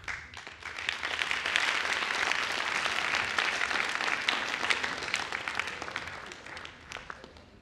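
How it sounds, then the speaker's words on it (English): An audience at a Fatal Reality 2018 event breaks into sustained applause, dense and loud clapping that rises quickly, holds for several seconds, then tapers off. "Let's have another round of applause for everybody that took part in this today"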